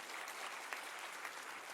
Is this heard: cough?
no